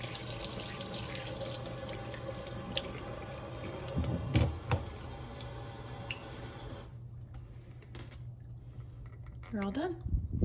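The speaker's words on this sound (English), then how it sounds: "Rinse it off." Tap water runs steadily while a Dash mini pizza maker is rinsed under a kitchen faucet. The splashing is continuous for about seven seconds, then the flow stops and a few faint drips and small clatters follow.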